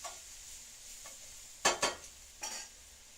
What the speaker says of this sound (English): So I just keep stirring my onions